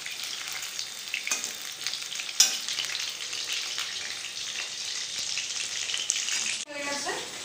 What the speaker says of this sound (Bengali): লাল লাল করে ভেজে নিয়েছি পকোড়াগুলো